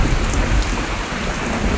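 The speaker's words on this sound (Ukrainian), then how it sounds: "А там іде просто злива." Heavy rain pours down in a steady, dense hiss of a downpour close by, with no voices over it.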